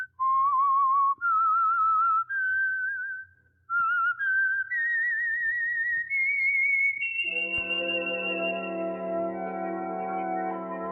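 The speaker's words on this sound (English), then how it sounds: "Let that whistle be your signal for the Signal Oil program, The Whistler" A lone person whistles the theme signal for The Whistler radio program, a wavering rising melody in clear sustained notes, after which an orchestral chord swells in beneath the final phrase.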